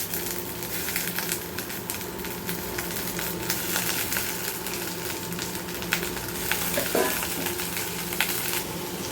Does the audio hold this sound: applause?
no